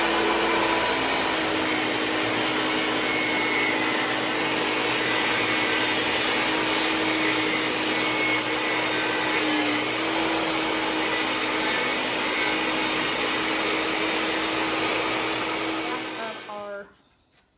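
A workshop dust collection vacuum runs beside a table saw set up for cutting cedar planks, a loud, steady, close drone that winds down and stops near the end.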